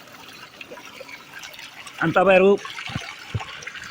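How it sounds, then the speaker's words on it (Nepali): Clear, cold spring water flows out from deep inside the ground in Nepal, a soft steady trickle, while someone talks over it. "यति स्वच्छ, यति शीतल, यति सफा पानी यो भित्रबाट"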